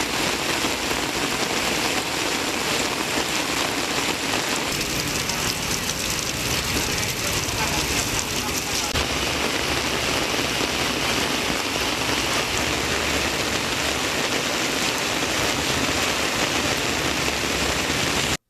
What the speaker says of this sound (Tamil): தென்காசி மாவட்டம் சங்கரன்கோவிலில் இரவில் 1 மணி நேரத்திற்கு மேலாக கனமழை கொட்டியது